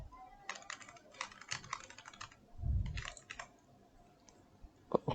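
Keys clatter on a computer keyboard in two quick bursts while entering a name during a server panel setup, close-miked, with a low thump in between and a few clicks at the end.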